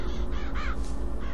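A crow caws in the BioShock Infinite video game, a few hoarse rasping calls close by over a steady low hum.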